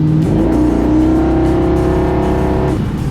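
A 700-horsepower car engine revs hard as the accelerator is floored in third gear, a loud, close, rising roar that holds for about three seconds with no talk.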